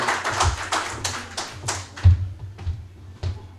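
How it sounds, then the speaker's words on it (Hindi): An audience at a laptop distribution ceremony for e-commerce students claps steadily for several seconds, a dense patter of hands that gradually thins out toward the end. "बहुत सी तालियाँ हमाद के लिए."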